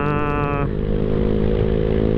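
A Yamaha Mio Sporty scooter engine runs steadily with a loud, close, buzzing drone. The pitch drops slightly partway through as the revs settle.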